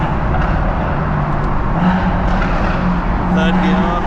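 A big-turbo BMW M140i with a screamer pipe accelerates inside a tunnel, its loud, echoing engine and turbo roar filling the space while people talk over it.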